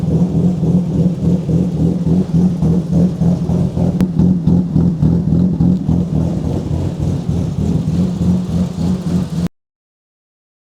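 A BMW E30 engine idles steadily at close range, a loud continuous rumble with a fast, even pulsing that holds throughout and then cuts off abruptly near the end.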